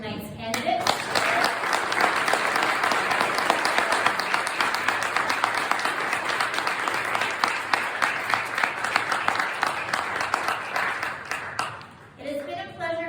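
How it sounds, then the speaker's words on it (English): An audience at a council candidates night gives a sustained round of applause, dense steady clapping filling the room for about eleven seconds before cutting off, with a voice heard briefly at the edges. "If we could please give one more round of applause for tonight's candidates."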